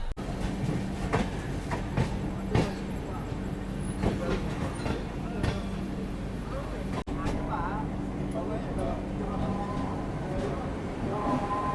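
A passenger express train pulls into Sagauli Junction station in Bihar with a steady rumble and clattering wheels, a low hum running throughout and brief clanks, while people talk nearby.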